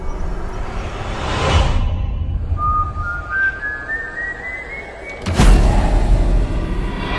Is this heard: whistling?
yes